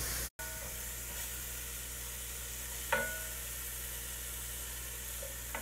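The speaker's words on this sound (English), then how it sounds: "the onions have been sauteing for a couple minutes" Onions and garlic sauté in a pan with a quiet, continuous sizzling hiss. It drops out for a moment near the start, and a single utensil clink sounds midway. No talking is heard.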